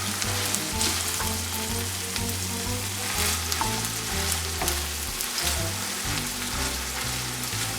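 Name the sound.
ground beef frying and being stirred in a pan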